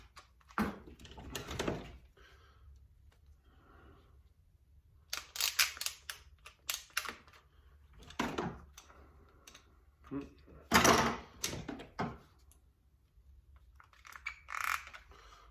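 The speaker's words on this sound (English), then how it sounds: "We're gonna take some of these clamps and clamp it into place here." Clamps are ratcheted and tightened onto a knife handle in short bursts of clicking and clattering, separated by quiet gaps, while someone talks at times.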